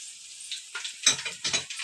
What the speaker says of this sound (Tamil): அங்கே வச்ச கரம் மசாலா, பட்டை, பூ இதெல்லாம் போட்டு நான் எண்ணெய் காஞ்சிட்டுக்குது இதில் போட்டுக்கிறேன்